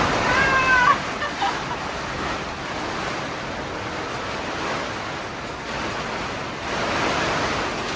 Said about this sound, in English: That's hail.